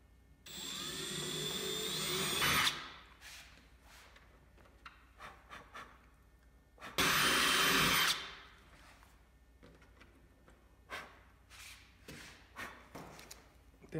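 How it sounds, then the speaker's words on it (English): Power drill boring holes with a 2.9 mm bit while a washer is held in place on a wing during model assembly; two loud sustained whirring bursts, each about two seconds long, followed by light tapping and handling sounds. "and then we are going to drill."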